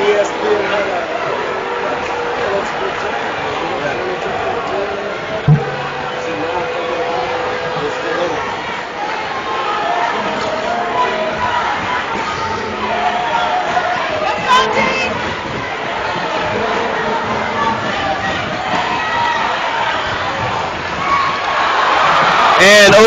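Basketball crowd in a gym voicing displeasure at a referee's call during a men's game between Andrews and Oakwood, a sustained murmur and shouting that swells toward the end, with an announcer talking over it.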